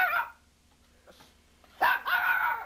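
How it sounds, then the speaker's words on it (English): A dog barks at a large toy ninja turtle at home, two sharp close barks separated by a quiet gap of more than a second, the second bark trailing into a brief yelping burst. "He's going to bark at him."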